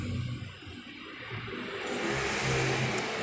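An Isuzu NKR 55 diesel engine starts up and runs on a bench while its injection pump turns, a broad steady roar that swells slightly toward the end, loud and close with no voices.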